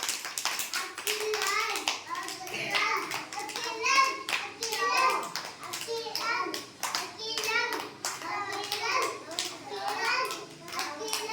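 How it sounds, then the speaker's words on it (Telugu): A group of young children at an anganwadi preschool clap their hands in quick, irregular bursts of sharp slaps over about eleven seconds, close by, mixed with excited chatter and children's voices. "క్లాప్స్ కొట్టండి మీరు."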